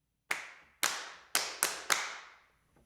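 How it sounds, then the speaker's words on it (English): Five sharp, roomy hand claps from a sampled 1980s Abbey Road studio kit snap out one after another, each bright burst trailing off in a short reverberant tail. "Hand claps."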